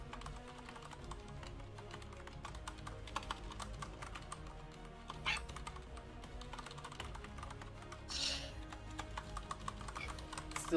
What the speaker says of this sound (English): Still typing up the tweet.